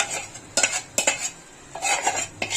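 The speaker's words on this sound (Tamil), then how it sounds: "அவிச்சு வச்ச வாழைக்காவை செவுக்க வச்சு எடுக்கணும்." A metal spoon scrapes and stirs boiled raw banana pieces frying in a pan, in several quick, uneven strokes with faint sizzling between them and no voices.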